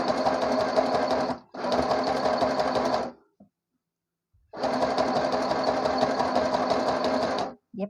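A sewing machine stitches a narrowly folded fabric edge in two close, steady runs of fast rhythmic whirring, stopping briefly between them for a quiet pause, with a short start at the very end.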